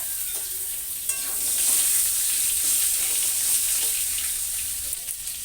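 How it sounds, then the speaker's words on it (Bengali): Potatoes fry in oil with cumin seeds, a steady close sizzle running the whole time with occasional stirring scrapes and faint kitchen clatter, no talk. "আলু দিয়ে ভাজা ভাজা করে নেই আগে আলুটা সুন্দর করে ভেজে নেব"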